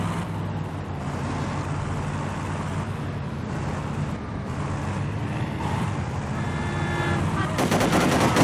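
Gunfire in the video game Driver: Parallel Lines, rapid automatic bursts over engine and wind noise, with a louder sustained volley near the end.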